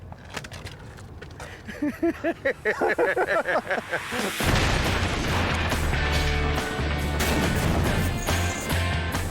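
A dummy fired out of a cannon in a Mythbusters test: a rapid series of sharp bursts is followed by a loud, sustained roaring rush with a booming low end.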